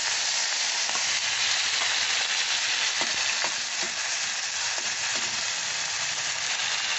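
Potatoes and green chili fry with mustard in mustard oil in a pan close by, making a steady, dense sizzle with scattered small pops and crackles and no speech.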